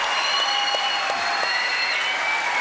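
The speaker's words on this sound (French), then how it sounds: "Oui, applaudissements quand même, mesdames, messieurs." A French television studio audience applauds in a steady, dense wash of clapping that lasts throughout, loud and close with no break.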